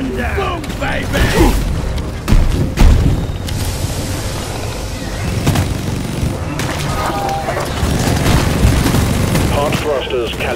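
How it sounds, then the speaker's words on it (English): An incendiary grenade goes off in the video game Deep Rock Galactic, one heavy boom followed by a roaring, crackling burn amid clanking game mechanisms and other effects. "Incendiary grenade"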